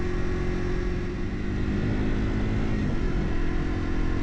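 A Yamaha TW200, a 200 cc motorcycle, revs with a steady, loud engine drone that rises slightly in pitch near the end, heard close up with no talking over it.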